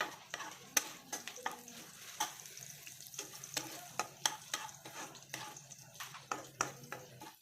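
Onions frying in a pan for pasta, stirred with a utensil in repeated quick scrapes and knocks over a continuous soft sizzle, close and fairly clear.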